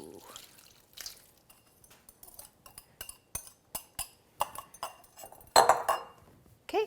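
Mushroom ceviche being mixed with a light dressing in a big bowl: scattered clinks and taps of a utensil against the bowl, with wet squelches, close and intermittent.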